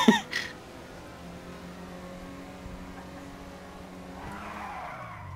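A car in GTA V skids and spins out: a sharp burst of tire squeal at the start, then a sustained engine drone with a rising rev near the end, no voices.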